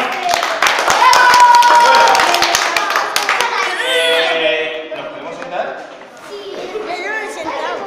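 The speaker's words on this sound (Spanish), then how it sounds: "Un aplauso." A group of children claps after a count, a burst of scattered hand claps mixed with lively kids' chatter and shouting, fading into excited voices.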